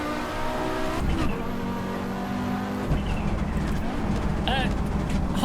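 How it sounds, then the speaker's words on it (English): An Audi Sport Quattro S1 rally car in a racing game revs up and bounces off its rev limiter, a loud steady engine drone with stutters and pitch shifts, and a voice talks over it. "I can't wait to remix this limiter sound"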